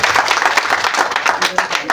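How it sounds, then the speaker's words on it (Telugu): Villagers clap in welcome with a brisk, continuous patter of many hands, while a voice carries on talking over the applause. "వారికి గట్టిగా మన గ్రామం తరఫున చప్పట్ల ద్వారా స్వాగతం పలుకుతాం"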